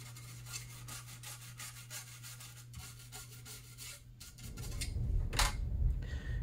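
Conformal coating being scraped off the pins of a circuit board from a Buick Rendezvous module, a steady close rasping rub with fine repeated scrapes, over a low hum that thickens into louder, rougher scraping near the end.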